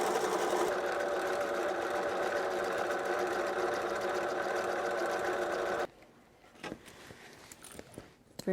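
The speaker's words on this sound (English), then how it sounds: "Remember, I turn the quilt so that I have a continuous line of stitching." A long arm quilting machine on a Happy Jack frame runs steadily, stitching a continuous line through a quilt with a dense, even mechanical buzz for about six seconds, then stops abruptly, leaving faint handling clicks and rustles.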